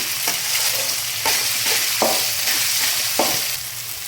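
Vegetables sizzle and fry steadily in hot oil with ginger-garlic paste for egg fried rice, a close continuous hiss broken by a few louder stirring scrapes, with no talking.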